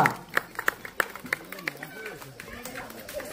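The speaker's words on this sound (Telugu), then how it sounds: "చప్పట్లు." Brief scattered clapping from an audience at a village Vinayaka Chavithi festival prize ceremony, a handful of sharp irregular claps over a few seconds with background chatter.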